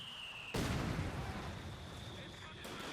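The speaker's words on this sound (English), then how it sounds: "the 81mm mortar opens up there on the German machine gun" An 81mm mortar fires in Company of Heroes 2, a sudden loud boom that rolls out into a long rumbling decay, with a faint high tone in the background.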